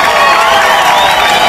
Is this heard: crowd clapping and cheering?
yes